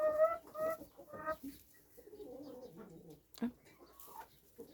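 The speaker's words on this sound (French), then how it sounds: "on a une trentaine de poules pondeuses" About thirty laying hens cluck and murmur in soft, irregular bursts nearby in a henhouse, with a brief sharp noise partway through.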